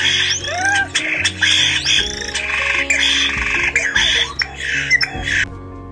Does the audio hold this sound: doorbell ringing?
no